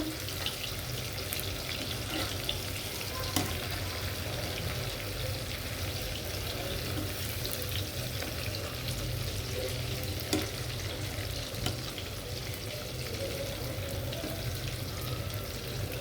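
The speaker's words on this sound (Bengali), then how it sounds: "হালকা আঁচে আমি একটু পনিরটা ভেজবো।" Paneer fries in oil in a pan on low heat, giving a steady, gentle sizzle with occasional small crackles and clicks, close and continuous for the whole stretch, with no talking.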